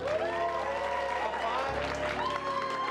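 Steady applause from a sizable improv comedy audience fills the whole stretch, dense and continuous, with a few voices calling out over the clapping.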